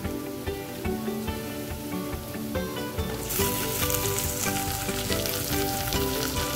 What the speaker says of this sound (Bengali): এখন আমি এই সময় এই আস্তে আস্তে ট্যাংরা মাছগুলো সব ছেড়ে দেবো।